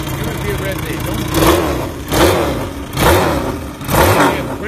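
A turbocharged Hunter Daytona motorbike engine revs in four repeated bursts, each throttle blip rising and falling over a steady running drone, close and loud, with voices faintly mixed in.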